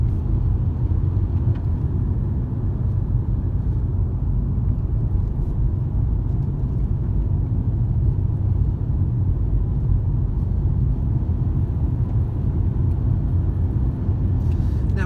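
Car accelerating briskly to the speed limit on a road approaching a roundabout, heard from inside as a steady loud low engine and road rumble throughout.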